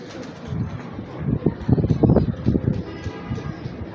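Old pigeons cooing in a loft, a cluster of soft, low throaty coos rising in the middle of the stretch, fairly close, with no talk over them.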